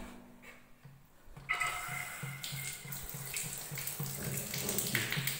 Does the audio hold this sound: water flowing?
yes